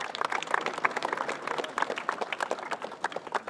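At a schools' cup final at Brewster Park, a crowd applauds briefly with dense, rapid clapping at moderate distance, moderately loud and without talk.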